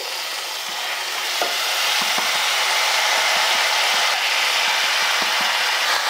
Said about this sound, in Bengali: এবার আমি সেদ্ধ করা মোচাটা দিয়ে দিচ্ছি।